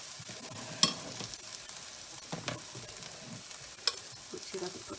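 Omelette mixture with zucchini frying in a pan, a soft steady sizzle with scattered light clicks and a couple of sharp utensil taps, no voices.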